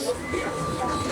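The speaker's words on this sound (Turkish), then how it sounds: "burada bir tren var. Şimdi trene bineceğiz." A train rumbles steadily nearby with a faint high whine, while voices murmur in the background.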